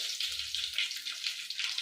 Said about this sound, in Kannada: ಈಗ ಕರಿಬೇವು ಹಾಕ್ತಾ ಇದ್ದೀನಿ ಒಗ್ಗರಣೆಗೆ.